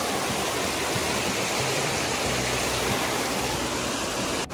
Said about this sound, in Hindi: दोस्तों वाटरफॉल दिख ही गया है, देख सकते हो झरना कितना मस्त नज़ारा है